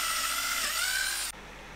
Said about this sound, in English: Here I am drilling the holes.